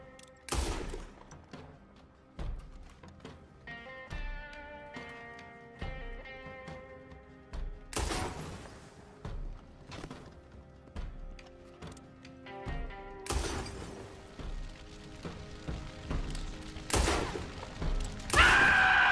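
Gunfire in Red Dead Redemption 2 rings out as a few separate sharp shots spread across the stretch, set against game music and ambient sound.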